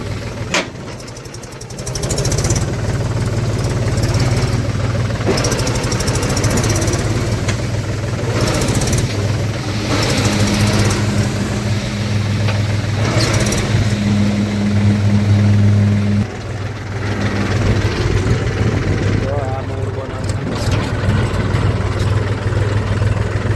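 Tractors and a JCB work on road construction in GIFT City, making a loud, continuous diesel engine rumble. It idles and revs for over twenty seconds, with occasional clanks and a steady low drone.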